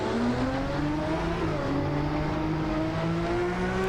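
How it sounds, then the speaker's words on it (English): Ferrari 641 Formula One car engine in Assetto Corsa, a loud, steady high-pitched whine rising and falling as the revs climb and shift, heard close and alone. "clutch in, first gear, raise the revs, and off we go onto the racetrack"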